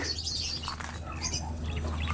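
Birds chirp softly around a pigeon loft's landing board, scattered short calls against a low steady hum, faint and close, with no voices.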